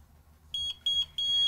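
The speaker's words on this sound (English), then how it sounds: "there's our final timer announcement that this mug is done" A timer on a latte mug heat press beeps three times in a row, with clear, loud, high-pitched tones spaced about a third of a second apart, standing alone against a quiet room.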